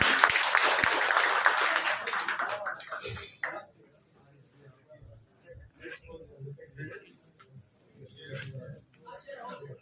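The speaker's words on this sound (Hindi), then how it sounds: "जोरदार तालियों के साथ उनका स्वागत करें" Applause welcoming a member of parliament as guest at an award ceremony, a loud burst of many hands clapping for about three seconds, then fading to quiet room noise with scattered voices.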